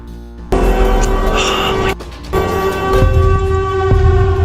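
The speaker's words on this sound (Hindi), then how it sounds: "There's the siren sound." Out in the woods, a loud, wailing siren-like drone attributed to the creature Siren Head blares with sustained layered tones, cutting out briefly before swelling back in.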